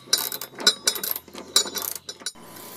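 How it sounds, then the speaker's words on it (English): Ratchet wrench clicking as it backs bolts off the deck of a Husqvarna riding mower, close and fairly loud, in several short bursts of rapid ratcheting with brief pauses between. "Now take the four bolts off."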